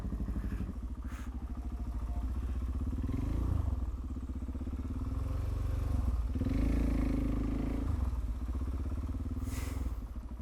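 A Suzuki DRZ motorcycle engine runs close by with a steady, rough mid-pitched thrum, swelling twice as the throttle is blipped and then settling back, with no talk over it.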